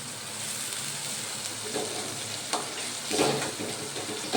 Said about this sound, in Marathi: आता याच्यामध्ये छान असं डाळ टाकून देऊया थोडीशी शिजायला